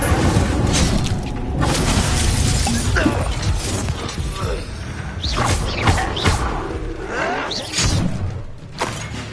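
An Incendio fire spell is cast during combat in a Hogwarts video game, a dense, loud burst of whooshing, crackling and crashing effects amid continuous battle noise.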